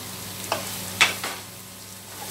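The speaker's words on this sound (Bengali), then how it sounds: "আর একটুখানি ভাজবো আমি। পেঁয়াজটা অতি অবশ্য ভালো করে ভাজা দরকার" Onions fry in a pan over high flame with a constant hiss and sizzle, and two or three sharp stirring scrapes stand out near the start, with no one talking.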